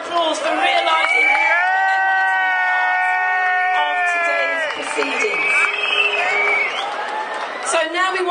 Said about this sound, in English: could you give them a round of applause for realising?